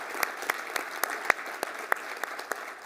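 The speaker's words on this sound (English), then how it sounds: "let's give them a round of applause" Scattered audience clapping at a keynote event, a modest crowd producing thin, even applause with a few sharper individual claps standing out at a regular pace, heard from a distance and continuing steadily.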